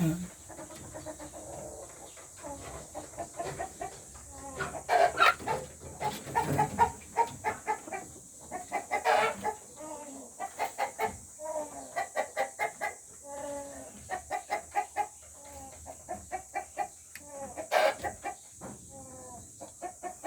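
Dekal Brown crossbreed chickens cluck in repeated bursts of short, close calls over about twenty seconds, with some louder squawks mixed in and a steady high hiss behind them.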